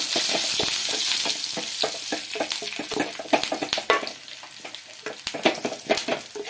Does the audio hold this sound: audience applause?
no